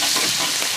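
Chili bean paste stir-frying in hot oil in a wok, a loud dense sizzle and hiss filling the short moment close up, with no voices.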